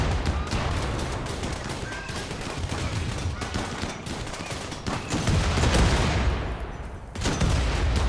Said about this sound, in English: There's so many bullets.